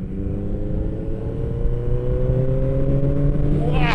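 A 1979 Suzuki GSX1100 motorcycle engine revs up, its smooth, steady drone climbing in pitch as it accelerates, loud and close the whole time.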